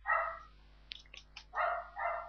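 Dogs bark in a video game, three loud close barks spaced out with some faint clicks and yelps between them over a low steady hum.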